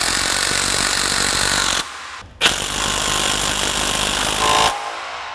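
Power tool running down steering rack bolts on a Ford Fox Body Fairmont, loud rattling hammering bursts, close, with two brief pauses and a final stop before the end.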